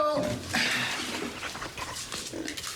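Several dogs whimper, yelp and bark in a busy indoor scene, with voices mixed in among the noisy animal sounds.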